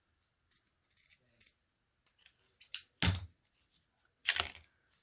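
A few sharp snips and crisp cutting clicks of scissors cutting dovetails into ribbon, close and fairly loud, scattered irregularly with quiet gaps between them.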